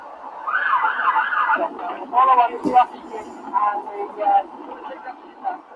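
An ambulance siren wails, rising and falling at a distance during a rescue beside a canal barge, partly masked by nearby voices talking over it.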